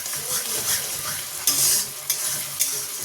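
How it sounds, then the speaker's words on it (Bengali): A paste of ginger, green chilli, tomato and a little ground cashew is stirred and fried in a pan, giving a steady close sizzle with scraping strokes and a few louder stirring bursts. "চলো মশলাটা কষিয়ে নিই।"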